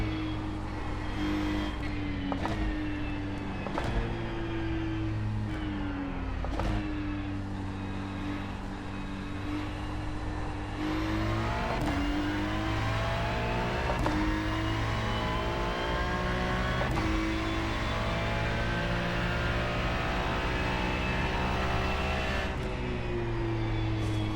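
Ferrari race car engine in a racing video game, a steady loud whine with rising and falling pitch as it revs through gear changes and twisty corners, continuous with no talk.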